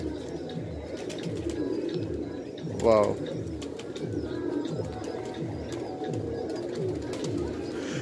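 Pigeons, a male and a female, coo in repeated rhythmic rising calls close by, with a brief louder call near the middle and a voice speaking in the background.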